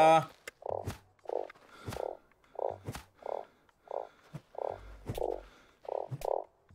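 Frogs in the survival game Starsand croak in a steady series of short, rounded calls spaced about half a second apart, with a few sharp clicks and brief speech fragments mixed between them.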